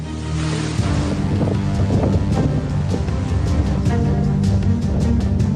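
Strong, steady wind from Cyclone Biparjoy in Kutch, Gujarat roars and buffets across the microphone, with gusty bursts and a dense rushing noise throughout, no voices.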